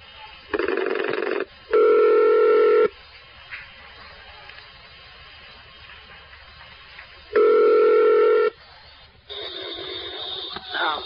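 A phone-in call being placed: two bursts of dial or ringback tone, a stretch of line hiss, then two more tone bursts, clear and close, with no talk.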